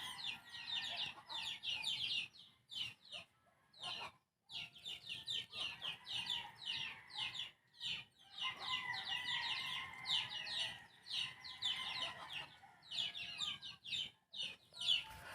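Ducks on a small backyard mini farm give faint, busy bursts of quacking and chattering calls in overlapping clusters with brief pauses, heard at a distance over a quiet outdoor background.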